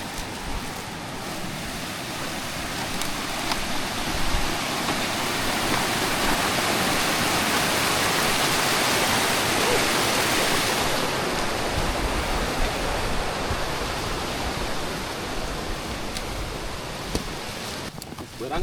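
A river stream near Curug Putri Kencana waterfall rushes in a loud, steady, broadband roar that fills the whole stretch, with some wind buffeting the microphone.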